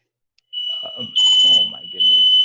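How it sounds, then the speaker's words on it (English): A smoke detector sounds a steady high-pitched alarm tone, rising into louder pulses, while someone talks over it. "Why are smoke detectors like, does this happen to everyone, or is this just me?"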